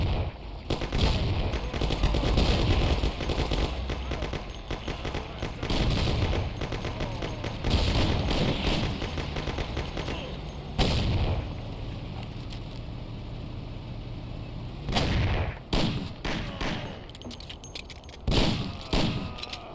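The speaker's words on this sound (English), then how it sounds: "That's a lot of guns." Sustained gunfire from the video game Mafia: dense bursts of rapid shots rolling across the whole stretch, heavy and loud, with sharper volleys near the end and no talking.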